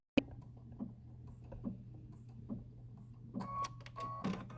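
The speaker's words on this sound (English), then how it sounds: "I'm going to do a tie-off stitch again" A sewing machine runs a tie-off stitch on a quilted placemat, giving faint rhythmic needle taps at an even pace and then a brief faster whir near the end.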